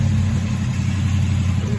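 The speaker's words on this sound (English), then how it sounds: "Hear the engine." TVR sports car engine rumbling steadily nearby, a deep, even drone with no talk over it.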